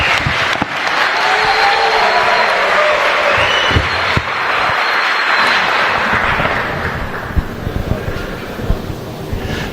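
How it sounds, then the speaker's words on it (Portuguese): Audience applause greets Luiz Inácio Lula da Silva at the opening of an electric bus factory, a dense, steady clapping that runs for about ten seconds, loud and close, and thins slightly toward the end with some wind-like rumble. "Uma salva de palmas."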